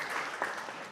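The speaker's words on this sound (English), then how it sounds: "Please give them a round of applause to get them going." Dense audience applause fills a conference hall, a steady wash of many hands clapping at moderate loudness with no voices over it.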